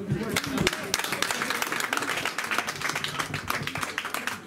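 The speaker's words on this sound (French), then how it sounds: "Merci, on peut l'applaudir." An audience clapping at an exhibition opening, a fairly close burst of many hands applauding that thins out over a few seconds, with voices mixed in.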